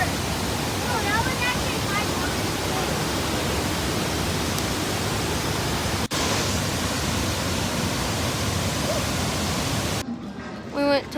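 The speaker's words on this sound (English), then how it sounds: "This is the same waterfall." Waterfall at Cuyahoga Falls, Ohio: a loud, steady roar of rushing water fills the whole clip at close range. Faint birdsong sits under it, and the roar drops out briefly at the very end.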